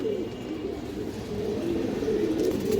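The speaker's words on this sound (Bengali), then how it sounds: "এই যে দেখেন দর্শক সবগুলো কবুতর মাশাআল্লাহ খুবই সুন্দর।" Pigeons coo steadily at a loft where young birds are kept, giving a soft, continuous rolling murmur that swells slightly toward the end. No voices are heard.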